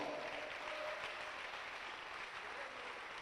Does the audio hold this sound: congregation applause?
yes